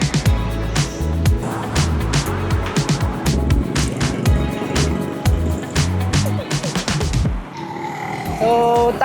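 Weekday city traffic rolls along a coastal Manila road near MOA, with cars and engines passing close and continuously, some tire noise and a brief lull near the end, no talk.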